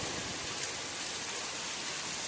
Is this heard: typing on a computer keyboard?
no